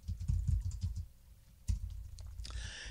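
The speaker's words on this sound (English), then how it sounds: "excuse me, I'm typing, as you can tell." Close-up typing on a computer keyboard: a fast flurry of soft key clacks, a short pause, then another burst of keystrokes that ends in a brighter clatter.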